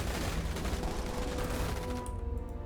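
Dense, continuous volleys of massed gunfire from a battle in the sci-fi strategy game Starship Troopers Terran Command, loud and close, with rapid overlapping shots throughout.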